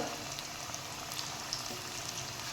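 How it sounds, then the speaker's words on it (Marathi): Spinach patties frying in a pan over a medium flame, a steady dense sizzle with tiny pops scattered throughout, soft and continuous. "हे पॅटीस आपण मीडियम फ्लेमवर ठेवतो"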